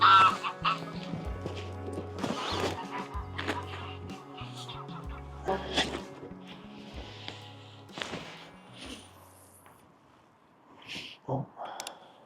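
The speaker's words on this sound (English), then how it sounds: "Geese in my peg." Geese honk repeatedly near a carp fishing peg during a live match, loud and close at first, then coming in scattered bursts, with someone talking at times.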